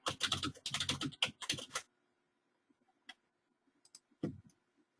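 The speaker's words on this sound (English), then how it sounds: "You hear my clackety clack keyboard?" Clacky computer keyboard typed in a fast, loud flurry of keystrokes up close, then a pause broken by a few isolated taps and one final hard clack, with no voices.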